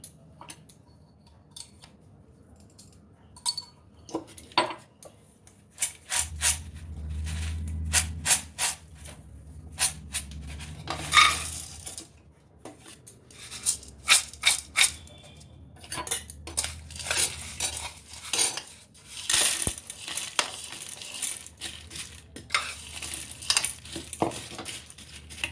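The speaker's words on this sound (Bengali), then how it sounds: "তো মিশিয়ে নিই, একটু মশলা টশলা দিয়ে নিই" Metal spoon clinks and scrapes in a pan as sabudana is mixed with spices for fried evening snacks, with irregular clattering close by, a low stirring rumble through the middle, and no talking.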